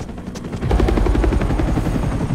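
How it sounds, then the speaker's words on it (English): Helicopter flying in the video game Marvel's Spider-Man 2, a dense continuous rotor chop with rapid low thumping, close and loud throughout, with no talk over it. "Y'all needed the helicopter?"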